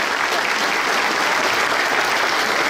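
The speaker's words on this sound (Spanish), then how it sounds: "Ese aplauso a las madres, si no es molestia, que se oiga" Audience applause for mothers at a live comedy show, a dense, steady wall of clapping from a sizable crowd that fills the whole moment without pause.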